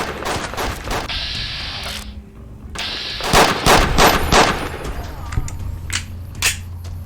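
Gunshots in Fallout: New Vegas: a loud, close run of sharp, rapid reports in bursts, broken by a brief lull, then more irregular single cracks, with faint voices in the mix.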